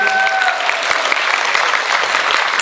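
A concert hall audience in Truskavets gives sustained, dense applause, close and loud, with no break.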